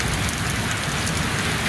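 Steady heavy rain in Tbilisi, a dense, even hiss of falling water that fills the sound closely with no pauses or voices.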